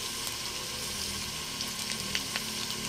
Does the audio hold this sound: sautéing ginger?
yes